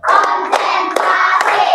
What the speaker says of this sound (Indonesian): Sebelum itu kita tepuk-tepuk dulu ya.